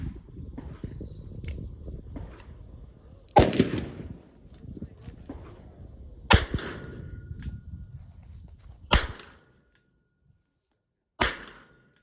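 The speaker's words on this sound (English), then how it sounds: "I'm going to shoot at the center of that bottom target" A Charter Arms Professional revolver firing .32 H&R Magnum at a target, five sharp loud shots spaced a few seconds apart, ringing briefly over low outdoor wind rumble.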